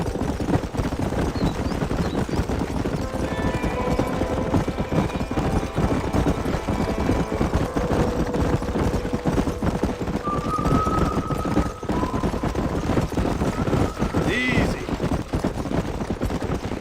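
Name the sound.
horses galloping in the video game Red Dead Redemption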